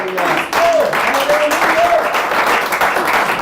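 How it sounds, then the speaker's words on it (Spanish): A church congregation claps steadily, dense applause filling the space, with voices rising over it. "dele palmas al Señor"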